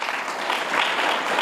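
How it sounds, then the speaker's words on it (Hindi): A burst of applause from a group at a school, steady and fairly loud throughout, with no pauses. "क्या बात, ताली बजाओ इसके"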